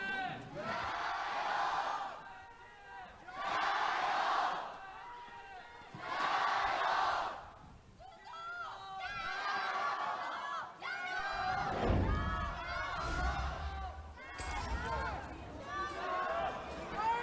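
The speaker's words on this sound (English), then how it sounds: "you're going to expect crowd chants for the hometown favorites" A large esports crowd at the LPL venue in Beijing chants in rhythmic surging waves for hometown team RNG, loud and repeated, with a commentator's voice speaking over the later chanting.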